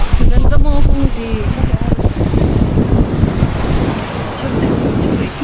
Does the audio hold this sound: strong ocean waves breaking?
yes